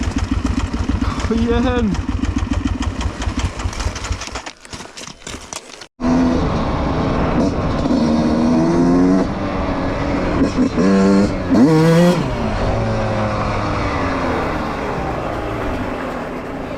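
Enduro motorcycle at a Swedish winter enduro, its engine fired up on the electric starter and revved hard, loud and close with rising and falling pitch, broken by a short drop to quiet before it roars again; people talk over it.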